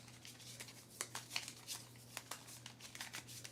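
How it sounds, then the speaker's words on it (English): A deck of cards gets a quick shuffle at a tabletop game, with soft, rapid riffling and papery flicks and taps repeating close by, faint against a low steady hum. "So we'll just give this a quick shuffle."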